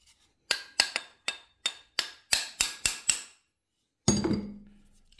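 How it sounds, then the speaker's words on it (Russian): A chisel is hammered into a Yamaha Jog scooter part in a quiet workshop: about ten sharp metallic strikes in a steady rhythm, then a pause and one heavier, ringing blow with a lower thud. No one speaks. "Строго напротив пальца забиваю зубило"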